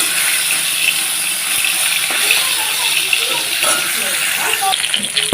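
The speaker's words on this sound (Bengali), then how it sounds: "মাছ মাথা টাথা সব একবারেই দিয়েছি ভালোভাবে লাল করে ভেজে নিচ্ছি" Pieces of shol fish, heads included, fry together in hot oil with a dense, steady sizzle and hiss that holds at an even, fairly loud level throughout.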